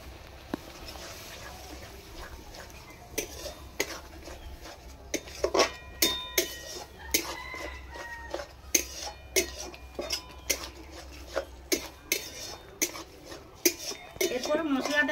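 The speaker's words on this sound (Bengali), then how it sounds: "এরপর মশলাটা একদম যতক্ষণ না তেল ছেড়ে বেরিয়ে আসছে ততক্ষণ কষতে থাকবো" A spoon scraping and stirring a spice paste with yogurt frying in oil in a metal pan for jackfruit kalia, with irregular sharp clinks and knocks in quick succession over a low sizzling hiss.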